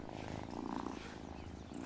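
Cat purring in the Wylde Flowers video game, a soft, steady rhythmic purr at low volume, continuous and close, with no talking over it.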